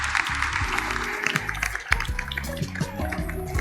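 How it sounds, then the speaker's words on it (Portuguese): An audience at a corporate platform conference in 2024 gives a sustained, even round of applause, steady clapping filling the hall with some faint voices beneath, while background music plays. "uma salva de palmas para o Daniel também"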